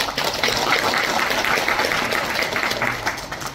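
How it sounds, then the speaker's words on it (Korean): A hall full of people at a Korean political party gathering breaks into sustained applause, a thick continuous patter of many hands at fairly even loudness for several seconds. "박수 한번 주십시오."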